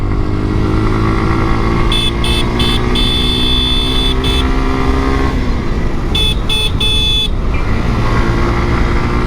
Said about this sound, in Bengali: সো গাড়িটা একটু টান দিয়ে দেখি।